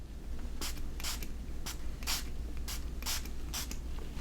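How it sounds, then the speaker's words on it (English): Repeated short hissing sprays from a spray bottle misting water onto fabric marked with disappearing-pen lines, about eight quick bursts in an irregular rhythm, close and fairly loud over low steady background hum. "I'm going to spray the other two just really close and see if they come off"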